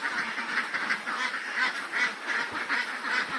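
A flock of ducks on a Philippine duck farm quacks continuously, many overlapping calls forming a dense, steady chorus nearby.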